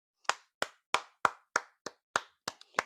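Audience at a talk show responds with slow, deliberate claps in unison, about nine sharp separate beats spaced evenly, crisp and fairly close in a quiet room.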